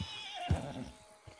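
A horse in the Red Dead video game gives one short, loud whinny about midway through, with faint game ambience around it and a softer thud near the end.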